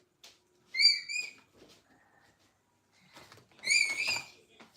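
Two short bursts of bright, tuneful whistling, a few warbling notes each, separated by a quiet pause.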